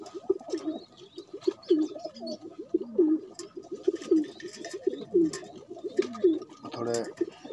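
A pair of domestic pigeons, one with yellow eyes and partly red feathers, coo repeatedly in a steady rolling rhythm at close range, with soft chirps and faint background noise between the calls.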